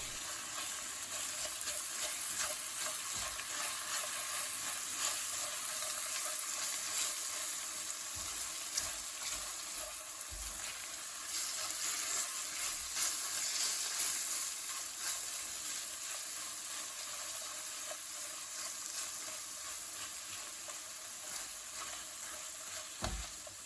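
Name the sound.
chilli powder, tomato puree and turmeric frying in a pan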